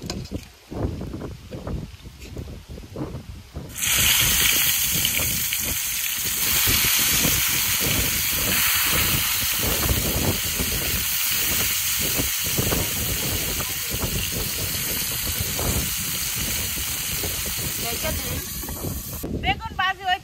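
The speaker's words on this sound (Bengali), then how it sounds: "এখন তাহলে দ্বিতীয় ব্যাগ বেগুন ভাজা নই" Eggplant slices frying in a pan, a loud, dense hiss of hot oil that jumps up sharply a few seconds in and holds steady nearly to the end, close by, with a voice talking over the start.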